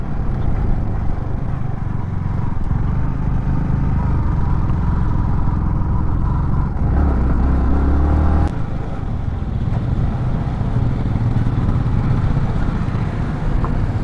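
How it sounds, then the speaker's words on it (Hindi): A vehicle struggles along a muddy, slippery mountain road on the way to Pangong in Ladakh, its engine droning steadily and loudly up close with a brief surge of revving partway through, and no talk. "भाई, यहाँ पर मिट्टी में गाड़ी बहुत गंदी वाली फिसल रही है।"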